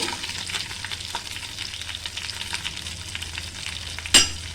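Okra pieces frying in oil with urad dal, mustard seeds, dried red chillies and curry leaves, a continuous close sizzle with stirring scrapes and a sharp clink of a utensil near the end.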